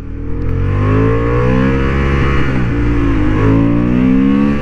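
A Honda Hornet 750 motorcycle accelerating hard on a racing track, its engine note climbing steadily through the revs, loud and close, briefly easing before rising again, with no talk.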